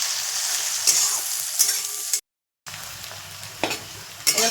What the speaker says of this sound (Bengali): পেঁয়াজগুলো একটু ভালো করে লাল লাল করে নেব।